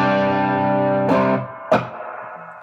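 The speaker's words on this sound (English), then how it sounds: "So here is the amp with just the reverb on." An electric guitar played through a Nolatone Junebug amp with only reverb on rings out in a sustained chord, followed by two quick struck chords that decay into a short reverb tail.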